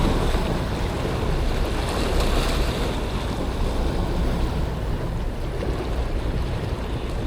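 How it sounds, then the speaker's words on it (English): Waves surge and break against a Tampa Bay shoreline while fishing, a loud continuous wash of surf roaring close to the microphone with wind buffeting throughout. "That's the first wave that's hit me all day"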